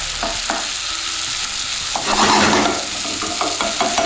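A vegan tofu omelette sizzles and fries in a pan while a spoon pokes and stirs it, giving steady crackling with a few sharp scraping clicks and a louder burst of sizzle midway, no talking.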